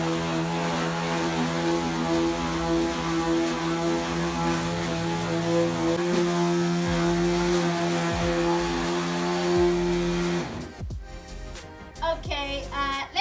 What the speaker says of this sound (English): then we will smoothen it out as far as we can to a 240 grit sander